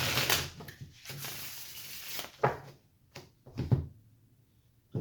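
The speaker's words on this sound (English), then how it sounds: "Ooh, cards flipping. Let me get one shuffle." Tarot card deck being shuffled by hand, several quick riffling bursts and soft slaps separated by short pauses, close and fairly quiet.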